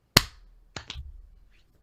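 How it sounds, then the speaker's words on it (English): A single sharp sync clap for a recording session rings out close and loud at the start, followed by two softer knocks or handling noises, then quiet. "We're going to do a sync clap, and then we'll get going"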